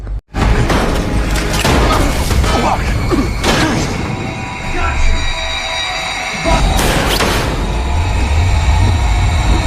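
Gunfight in a film: dense, loud crashes and booming impacts over a continuous heavy rumble, with a few sharp bursts standing out along the way.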